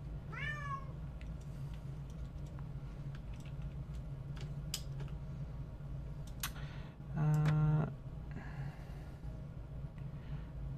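A house cat gives one short meow at the start, then scattered clicks and ticks follow, and a loud buzzy tone swells briefly near the end over a constant low hum.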